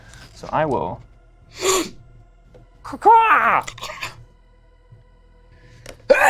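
A quick, breathy sneeze bursts out among people talking close to the microphone during a streamed Warcry tabletop battle between Soulblight and Hunters of Huanchi, with conversation continuing around it.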